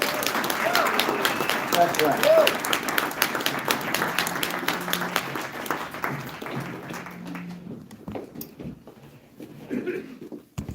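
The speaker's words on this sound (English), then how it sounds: "Now y'all can do better than that with the clap." Audience applause at a Denver mayoral forum, a dense wash of clapping that swells early and then thins and tapers off, with a host talking over it.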